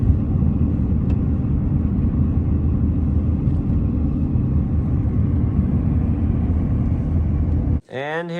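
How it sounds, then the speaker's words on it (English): A truck drives along a snowy Alaska homestead road, a steady low engine and road rumble from inside the cab that cuts off sharply near the end. "I gotta jump in the truck."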